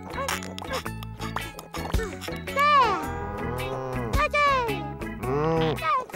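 Several drawn-out, wavering moos sound loud and close, one after another, with tonal swoops like an animated or voiced cow.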